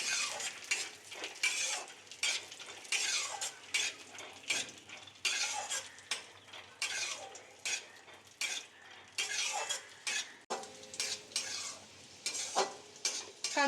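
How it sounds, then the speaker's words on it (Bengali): Cashews and raisins fry in ghee in a pan, a steady soft sizzle broken by frequent scraping and stirring of a spoon against the metal, moderately close with no voices. "কাজু কিশমিশ ভাজা হয়ে গেছে, তুলে নেব।"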